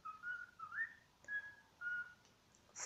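A pet bird whistles indoors in a short series of clear, bright whistled phrases, some rising and some held, each separated by a brief pause. No one speaks.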